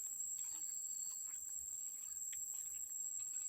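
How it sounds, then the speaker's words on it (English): Cicadas at a quiet temple make a steady, high-pitched drone throughout, faint and even, with a few soft chirps from other insects in the background. "You heard the sound of cicada."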